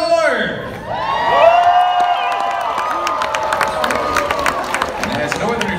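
Crowd cheering, whooping and clapping fills the arena at Dolly Parton's Stampede dinner show, loud and sustained. Children shout among the mix, with a voice rising over the start of the cheer.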